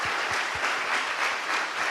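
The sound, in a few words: church congregation applauding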